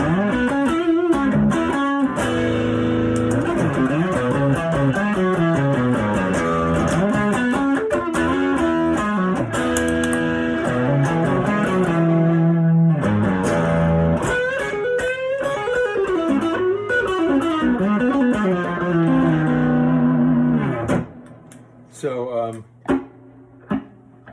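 Electric guitar played with a thick overdriven tone, a run of chords and sustained notes filling most of the clip before fading into a few sparse plucks.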